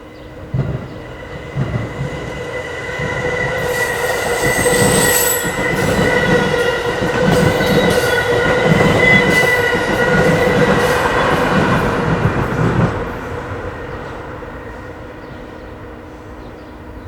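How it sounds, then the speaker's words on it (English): An Amtrak train on the Keystone Corridor crosses over from track 4 to track 3. Loud rumbling, rhythmic clacking over the switches and high wheel squeal build and then fade, with no voices. "45 minutes later, train 651 crosses from track 4 to 3."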